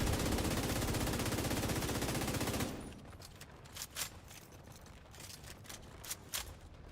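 Video game gunfire from a medic character, a dense continuous burst of rapid shots that cuts off abruptly, followed by scattered single shots and sharp clicks at a lower level.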